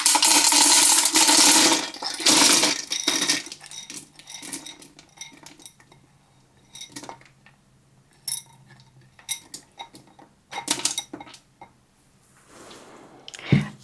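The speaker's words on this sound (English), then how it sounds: "And then I'm going to add in my northern beans." Northern beans tumble into an Instant Pot already holding olive oil, a loud rushing pour followed by scattered clinks and rattles as the last beans drop and are stirred about, with no talking.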